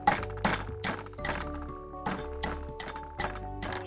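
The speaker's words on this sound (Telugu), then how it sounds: "సో వీటిని కూడా మెత్తగా దంచుకోవాలి." Jujube fruits and salt are pounded in a mortar, giving a steady series of heavy dull thuds roughly every half second, close and fairly loud, each with a brief clinking edge.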